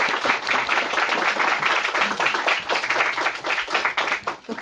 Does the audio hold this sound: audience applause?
yes